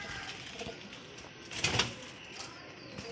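Pigeons, kept by a Bahawalpur pigeon fancier, coo softly in a low murmur with a brief flutter of wings in the middle, faint and close, without any talk.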